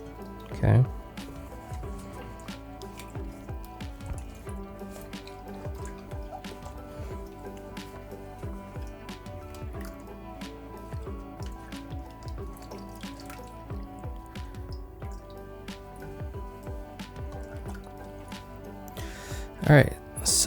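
A cloth mouse pad pushed down into a sink of lukewarm water, with splashing, dripping and squishy sloshing through the stretch, a louder splash near the start and end, and a person talking over it.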